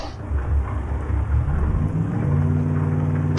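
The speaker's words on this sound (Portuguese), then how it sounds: "E tá chovendo nesse negócio aqui, hein," Steady rain pours down with a low rumble underneath, continuous and fairly loud, with no voices, in Euro Truck Simulator 2 while driving a 1956 Ford F-100 pickup.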